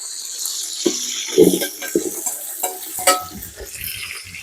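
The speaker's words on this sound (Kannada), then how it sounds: "ಈಗ ಈರುಳ್ಳಿ ಹಾಕ್ಕೊತಾ ಇದ್ದೀನಿ" Chopped onions go into a pan for chicken biryani with mint, giving a few clattering drops and stirring scrapes over a light, close sizzle, with no talking.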